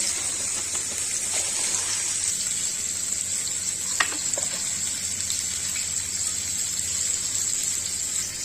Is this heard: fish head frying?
yes